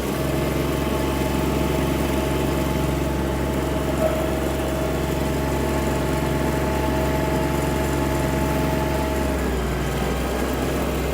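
A small engine runs steadily and loudly throughout, a constant droning hum with mechanical vibration, easing slightly near the end: a Japanese Kubota GB-20 mini tractor.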